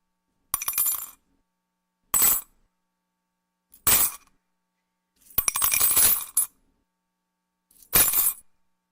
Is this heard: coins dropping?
yes